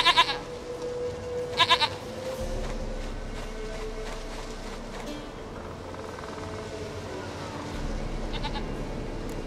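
Goat bleats in the Witcher 3 video game: two short wavering bleats near the start, with a fainter third one later, over a low hum of game ambience.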